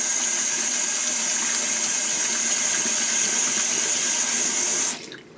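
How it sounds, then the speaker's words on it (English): Tap water runs steadily into a sink as hands are washed, a close, continuous hissing splash that cuts off abruptly near the end, with no talking. "so let me wash my hands"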